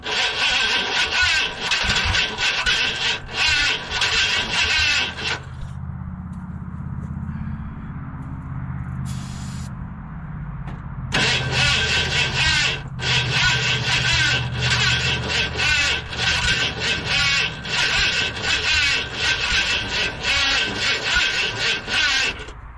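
The starter on a Ford F150 that sat for 15 years turns the engine over weakly in two long rhythmic stretches of churning, separated by a pause, without the engine catching.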